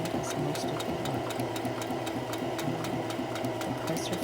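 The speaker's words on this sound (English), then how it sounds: "Now please notice that the sewing machine does most of the work." A sewing machine runs steadily while stitching fabric for a shift dress, its motor holding an even mechanical whir with a fast, regular ticking of the needle, close and continuous with no talk.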